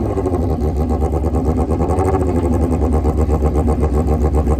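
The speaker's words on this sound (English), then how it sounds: "How about a John Force-esque smoky burnout for that competitor on the sport bike, lighting up the tire down under" A sport drag bike at a major Australian drag racing event does a smoky rear-tire burnout, its engine roaring loud and close in a steady, continuous howl with no pauses.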